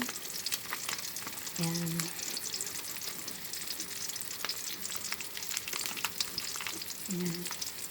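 Dried shrimp frying in a pan for sautéed bottle gourd, a steady close sizzle with stirring scrapes, broken by two brief moments of someone talking.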